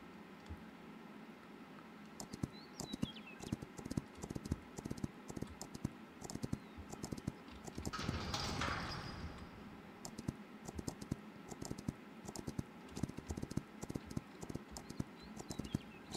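Horse hooves clip-clop in the medieval survival game Crestfallen in a steady, quiet rhythm near a castle, with a brief whooshing swell partway through.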